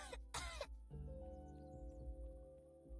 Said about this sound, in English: you really should get that cough looked at